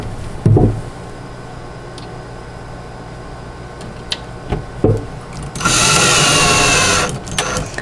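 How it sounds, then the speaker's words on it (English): A power screwdriver drives screws into the wooden panels of a Badger Basket bench-top toy chest during assembly, a couple of short bursts followed by one sustained whirring run of about a second and a half, close and loud, with no talking. "Now what I can do is tighten these 2 outermost screws all the way."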